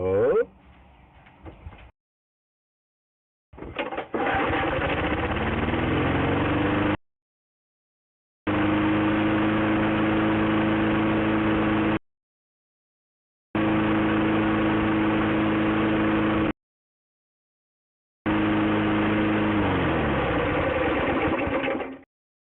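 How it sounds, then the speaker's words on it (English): A lawn mower engine runs in several long bursts separated by silent gaps, its steady mid-pitched drone loud and close, with a brief rev at the start. "That's a good speed for this mower."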